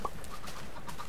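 Chickens in Minecraft, trapped in a cooker farm, let out a few faint, brief clucks over a steady hiss of game background noise.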